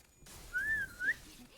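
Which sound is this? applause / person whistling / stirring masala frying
person whistling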